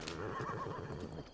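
A giant horse in the video game Zelda: Breath of the Wild lets out a single wavering whinny up close, the neigh rising and fluttering before fading, with no talking over it.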